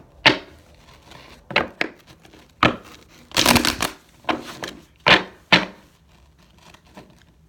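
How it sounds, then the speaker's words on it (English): A tarot card deck being shuffled by hand, a string of close, crisp riffling bursts and taps at irregular intervals, with one longer flutter in the middle and quiet gaps between. "Let me shuffle this card, this deck, 3 times"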